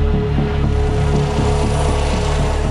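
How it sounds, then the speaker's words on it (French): A helicopter nears the Luynes remand prison in France: a steady, loud rotor chop with a fast, even beat and an engine drone, with no voices over it. "Il est 16h quand un hélicoptère s'approche de la maison d'arrêt de Luynes."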